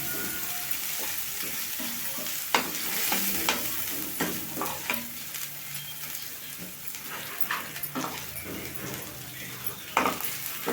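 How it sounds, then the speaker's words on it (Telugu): Ginger paste frying in oil in a pan while a spoon stirs it, with a continuous sizzle broken by repeated scraping and clinking strokes of the utensil against the metal. "కొంచెం అల్లం మీద పేస్ట్ మనకి నూనెలో మంచిగా ఫ్రై అవ్వాలండి"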